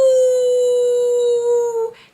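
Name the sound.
imitated wolf howl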